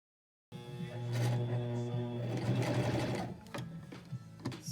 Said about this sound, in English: So I'm gonna start sewing from here, going round, all the way round, without leaving any gap.